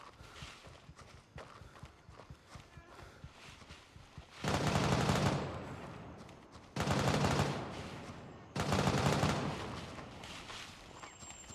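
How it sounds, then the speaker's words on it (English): Gunfire in the tactical shooter Gray Zone Warfare: three loud, close bursts of rapid shots, each a couple of seconds long, over a quieter background of distant shooting and footsteps. "That gunfire makes me a bit nervous."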